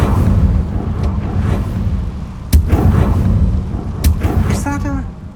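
An Incendio fire spell cast in the game Hogwarts Legacy amid combat: a low roaring rumble of flames punctuated by a few sharp, loud blasts, with a brief chirpy effect at the end.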